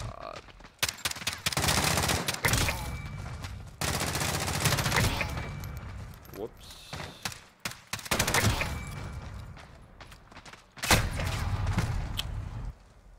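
Rapid bursts of automatic gunfire and single shots from a Call of Duty Modern Warfare match crackle loudly in long, dense volleys, broken by short pauses and a final sharp burst.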